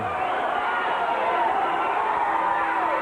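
A crowd at a 1983 Portland professional wrestling match roars steadily, a dense, continuous wash of cheering and shouting that stays even throughout.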